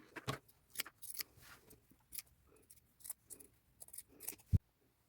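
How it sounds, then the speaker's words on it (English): Scissors snip through the sleeves of a denim jacket along the seam, a string of crisp, close cuts in uneven bursts with brief pauses, ending in a sharp final snip. "First thing I'm going to do is cut these sleeves off, and I'm going to stay on this side of the seam."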